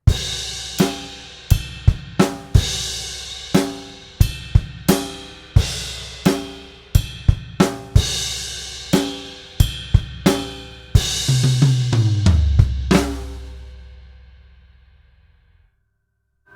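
Drum kit playing a Grade 4 rock groove, steady kick, snare and hi-hat hits with cymbal crashes, ending on a sustained crash with a tom fill that rings out and fades to silence; no voices.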